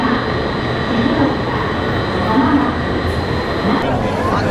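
Steady, loud rumble and hiss of a Shinkansen bullet train in Tokyo, continuous throughout with no distinct breaks.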